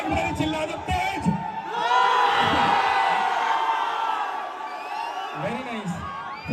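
A large outdoor concert crowd at a late-night show in Danapur, Patna shouts and cheers loudly in a sustained roar lasting several seconds, with someone speaking over it before and after.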